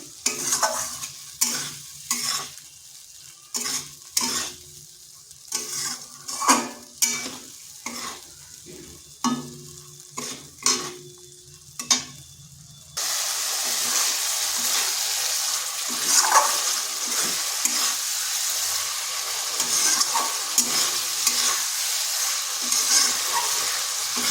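Fried potatoes being stirred with spices in a pan, first as roughly a dozen rhythmic scraping and clattering strokes, then a sustained, close sizzle that keeps crackling for the rest of the time.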